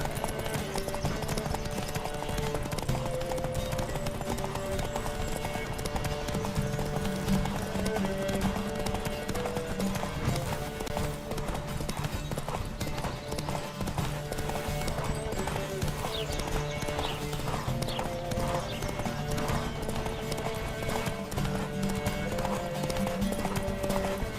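Horses gallop in a race in The Witcher 3, with rapid continuous clip-clop hoofbeats and an occasional whinny throughout, plus faint voices in the background.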